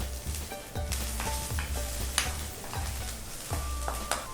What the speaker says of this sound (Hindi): सबसे पहले विलायती कढ़ाई में तेल और इसमें चुटकी भर हींग डालिए और डालेंगे जीरा आधा छोटा चम्मच